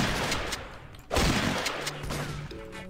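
Shotgun blasts in the Roblox game KAT: a sharp, loud close-range shot lands at about one second, followed by a sustained burst of gunfire, with faint tones from the game heard underneath.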